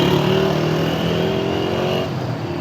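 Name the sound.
car pulling over to the side of the road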